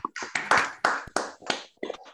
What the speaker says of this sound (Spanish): abrimos los micrófonos para un aplauso fuerte para Luis Brunstein.